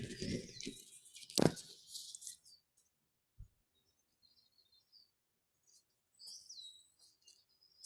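Birds chirp and trill in Bixby Marshland in May, with bright song phrases at the start and again near the end. A thud and soft rustles fall between them, with no talking.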